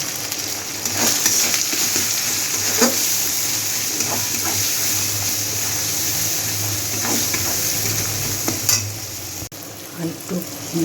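Fish head frying in a pan with turmeric while being stirred: a continuous close sizzle with scraping and clattering of the spatula against the pan, no talking.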